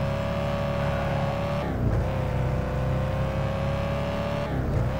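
A car driven in the VR video game Thief Simulator VR, a steady engine drone with a gear shift dip midway and another near the end, moderately loud and alone.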